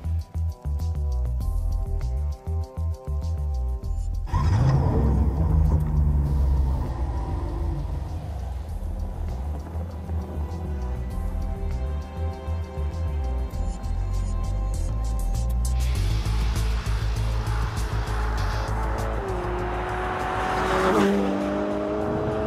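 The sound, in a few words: Ferrari GTC4 Lusso T V8 turbo engine driving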